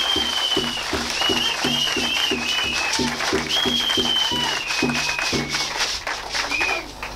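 A church congregation in Yaoundé, Cameroon bursts into sustained rhythmic applause, clapping in a steady beat with cheers and shouted voices over the top, loud and filling the hall.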